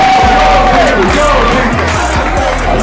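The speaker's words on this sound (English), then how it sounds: "give them a hand clap" Crowd at a back-to-school housing rally with a live performance, cheering loudly over booming rhythmic thumps and a sliding high tone, continuous and close.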